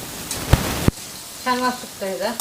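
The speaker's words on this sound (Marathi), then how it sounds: "लसूण मिरची आणि कांदा यांचं मिश्रण करून तळतोय आपण" Garlic, chili and onion fry together in a pan with a steady sizzle, broken by two sharp clicks early on, then tonal voice-like sounds over the frying.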